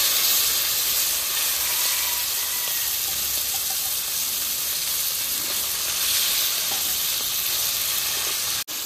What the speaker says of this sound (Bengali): এই তেলে দিয়ে দেবো মাংস।